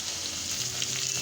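Potatoes and bitter gourd sizzling in hot oil in a pan, a steady close crackle with soft stirring and no talk.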